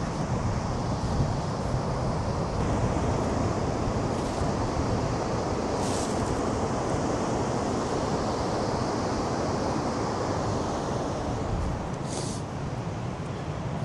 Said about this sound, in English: we're right on the coast of the ocean, another free camping spot